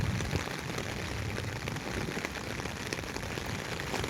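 Heavy rain pours down in Sylhet, a dense, constant patter on surfaces that fills the scene evenly and close by, with no voices heard.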